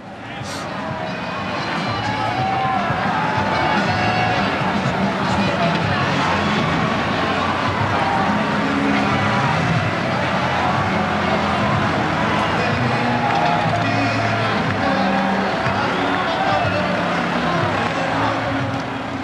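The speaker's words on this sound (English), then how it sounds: "As we look at some of the thinning crowd on the floor of New York's Times Square, let's listen into what's left" A thinning crowd fills Times Square, New York, on the night of the millennium New Year, a dense, steady babble of voices and cheering with traffic-like rumble throughout.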